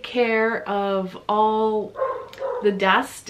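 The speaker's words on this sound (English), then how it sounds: "I'm not sure why my son's dog is barking" A son's dog barks downstairs in the background of a house, its yaps muffled and intermittent beneath a person talking steadily close by.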